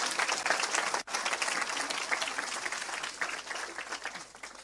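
A church congregation bursts into loud, dense applause that carries on steadily, cuts off for a moment, then resumes and slowly fades.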